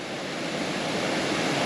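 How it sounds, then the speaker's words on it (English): Blue Hole Falls at Fiery Gizzard in Tennessee pours into a blue pool, giving a steady, broad rushing roar of falling water that stays even and close throughout, with no voices. "The falls are pouring down into it."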